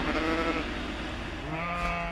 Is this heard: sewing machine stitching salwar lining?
no